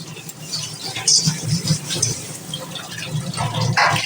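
Plenty of water splashes and pours over an iron kadai as it is rinsed, an uneven gushing and spattering at close range with a few sharper clinks of metal.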